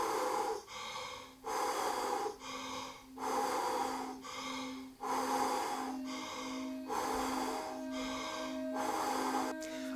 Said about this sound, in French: On respire simplement plus vite et plus fort.